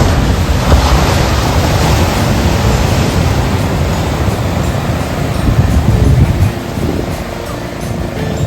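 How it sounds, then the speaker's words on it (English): Ocean waves wash onto Promenade Beach in Puducherry, a steady broad roar of surf with wind buffeting the microphone throughout, loud and continuous with a slight swell near the six-second mark. "Enjoy the waves."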